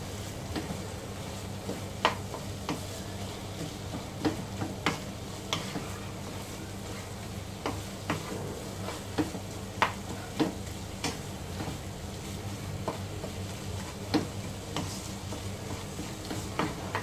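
Dried shredded mutton (kalya) fries with roasted masala in a pan over a low flame, giving a steady soft sizzle. A spatula stirs it with irregular light scraping taps.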